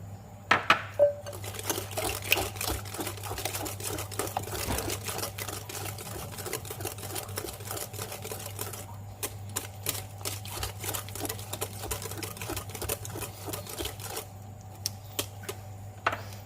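Eggs being beaten into steamed pandan cake batter with a mixer, a steady whirring drone with dense rapid rattling and clicking of beaters against the bowl, close and continuous.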